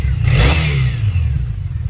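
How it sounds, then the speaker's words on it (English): A 2016 Triumph Bonneville T100 with its 900cc twin engine and black powder-coated exhaust, fitted with a sidecar, revs loudly and up close, a rough throaty rumble that swells and eases over two seconds with no talking. "let's hear the bike run, or rev."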